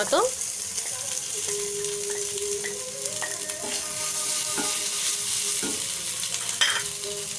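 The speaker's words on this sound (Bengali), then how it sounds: "এবার দিয়ে দেবো আদা রসুন এবং লঙ্কা" Ginger, garlic and sliced chillies fry in oil with a continuous bright sizzle, and a spoon scrapes and taps against the pan now and then as they are stirred.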